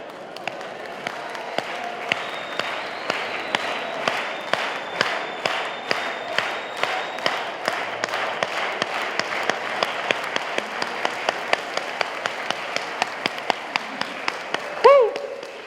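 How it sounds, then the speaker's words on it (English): A rally crowd for Bernie Sanders in Richmond claps in a steady unified rhythm, sharp regular beats over a broad crowd wash, ending in a brief cheer. "Let's hear you clap."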